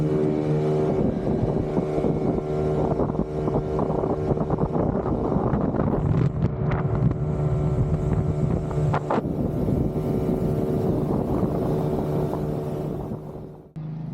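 Motor dinghy puttering through a busy commercial harbour, a steady close outboard drone mixed with wind buffeting on the microphone, continuing throughout without voices and dropping briefly near the end.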